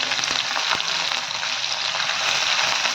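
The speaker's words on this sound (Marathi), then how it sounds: "छान असं परतून घ्यायचं मस्त। थोडंसं कांदा टाकून सोनेरी कलर येऊ द्यायचा याला।" Vegetables such as capsicum, carrot, green chilli and cauliflower frying in a pan with cumin, mustard seed and garlic, giving a dense, continuous close-up sizzle that stays loud and even throughout.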